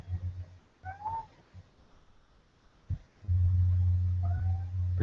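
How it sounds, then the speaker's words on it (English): A cat meows twice, short, rising calls about three seconds apart, fairly faint against a low hum that grows louder toward the end. "The cat's meowing."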